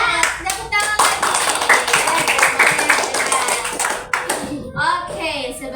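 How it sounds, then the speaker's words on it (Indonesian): An elementary school class claps hands together in a steady, fast rhythm close by, with children's voices mixed in and talk at the end. "Tepuk tangan lagi."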